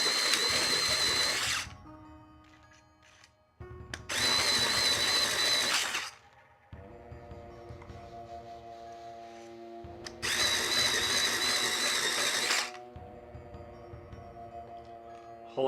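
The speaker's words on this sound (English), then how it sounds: "Gonna go ahead and sharpen this up really quick." An electric pencil sharpener whirs loudly in three separate bursts, each a couple of seconds long, with quieter mechanical hum and clicks between them.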